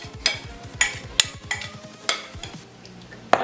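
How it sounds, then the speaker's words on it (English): Rhubarb scooped into cake batter gives wet, squelching scrapes and soft spoon knocks against a bowl, several quick close strokes at irregular intervals. "We are going to add our rhubarb into our mix here, then just scoop it in there."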